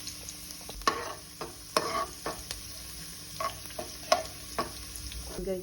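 Chopped garlic fries in a pan for vegetable fried rice, giving a soft, continuous sizzle broken by sharp clinks and scrapes of a utensil stirring, close up and fairly quiet.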